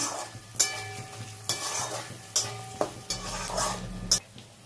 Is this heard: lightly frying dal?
yes